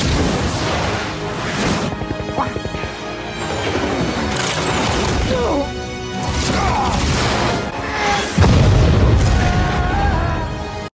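Explosions and crashes from an aerial battle sequence in The Falcon and the Winter Soldier, with repeated loud booms, bursts and smashes layered over a dense action-film mix.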